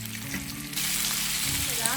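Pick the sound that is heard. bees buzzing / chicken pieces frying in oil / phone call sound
chicken pieces frying in oil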